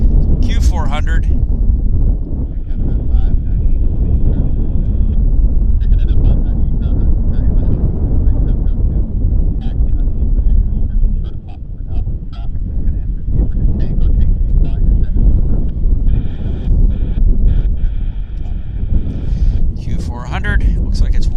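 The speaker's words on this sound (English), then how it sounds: "Q400. Looks like it's WestJet." A WestJet Encore Q400 turboprop at Vancouver Airport gives a sustained low engine drone across the whole stretch, with people talking over it almost continuously.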